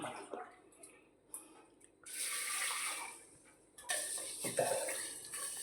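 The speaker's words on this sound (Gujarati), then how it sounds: "જો આપણે મગ્ન પહેલાં ધોઈ લઈશું" Soft bursts of water swishing and pouring as mung beans are rinsed in a bowl, with quiet gaps between and a faint voice.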